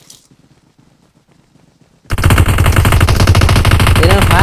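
Loud, dense automatic gunfire bursts in suddenly from a quiet start and keeps up in a rapid, continuous rattle, a squad of four firing together in a PUBG Mobile rush match.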